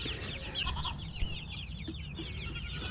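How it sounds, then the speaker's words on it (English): Baby chickens peep and cluck in a farmyard with guinea fowl nearby, soft chirping calls overlapping continuously over low background rustle, fairly faint and with no talk. "These are a lot of my baby chickens."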